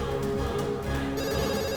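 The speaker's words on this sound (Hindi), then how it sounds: "Daddy please pick up the phone." A telephone rings steadily in a Hindi-dubbed action film, its repeated bell tones sitting over a continuous dense background score for a short stretch, with no voices heard.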